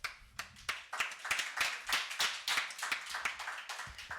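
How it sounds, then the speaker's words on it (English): Sparse clapping in the Rangdarshini Hall at the Bhopal Literature Festival: a small number of distinct, close hand claps in an uneven rhythm rather than a full, dense crowd ovation. "Can we have a huge round of applause?"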